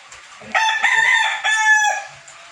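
A Kelso gamefowl rooster crows once, loud and near, the call broken into a rising start and a sustained ending, with a faint cluck around it.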